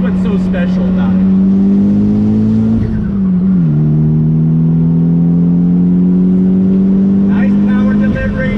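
A 1997 Mitsubishi Eclipse GSX engine pulls loudly and steadily under acceleration, its note rising through the rev range, dipping briefly with a gear change, then climbing again while driving along a twisty road.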